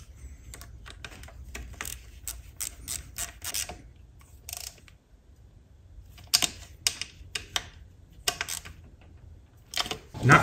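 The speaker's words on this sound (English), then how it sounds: "I think once we get these bolts tight, we're gonna be perfect" Bolts being tightened on the cam chain tensioner of a Kawasaki KX250F motorcycle engine: close, rapid ratchet clicks in bursts with short pauses, plus faint metallic handling noises.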